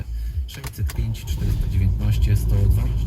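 A BMW X4 engine cranks and catches, then settles into a steady idle close by while a person talks over it.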